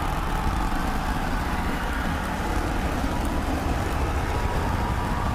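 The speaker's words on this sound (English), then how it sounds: "trying to light 2 of these Raptor sea level engines." Two Raptor sea-level engines fire during a Starship landing burn, heard as a continuous, dense, broadband roar that stays steady throughout with no voices over it.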